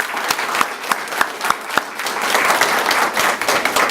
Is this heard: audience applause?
yes